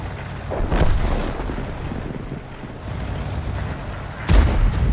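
Kirovets-1 Soviet heavy tank cannon firing in a tank game: a deep booming shot near the start and a sharp, heavy blast near the end over a low rumbling battlefield background.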